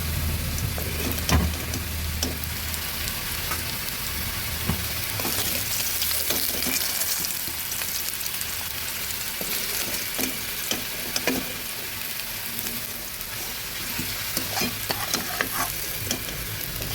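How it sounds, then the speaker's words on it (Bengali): Potatoes frying in oil in a kadai while being stirred, a steady sizzle with repeated scraping and clattering strokes over about seventeen seconds, with no one speaking. "আলুগুলো সুন্দর ভাজা হয়ে গেছে"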